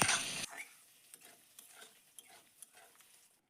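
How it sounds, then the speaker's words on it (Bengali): A spoon stirs raw mango chutney with sugar in a cooking pot, giving soft scraping and faint sizzling ticks in a quiet kitchen after a short louder burst at the start, with no talking. "এখন আমি এখানে দিয়ে দেব পরিমাণ মতো চিনি দিয়ে আরেকটু নাড়াচাড়া করে নেব।"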